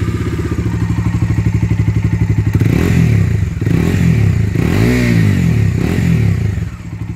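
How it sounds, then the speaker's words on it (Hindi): A Bajaj Dominar 250 BS6 motorcycle exhaust thumps close by in a steady rapid idle pulse, then revs up and settles in a few throttle blips, loud and alone. "ये तो उसका कुछ एग्जॉस्ट साउंड था बाइक का"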